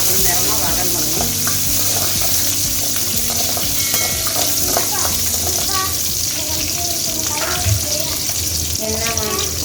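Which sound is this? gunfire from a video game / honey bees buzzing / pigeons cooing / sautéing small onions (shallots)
sautéing small onions (shallots)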